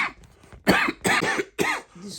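A man coughs repeatedly during a spoken prayer, three heavy, harsh coughs in close succession, loud and near, with a faint murmur of prayer before them.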